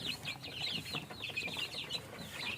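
Newly hatched day-old chicks: a dense chorus of high, rapid peeping from many chicks at once, close and continuous over a soft background hum.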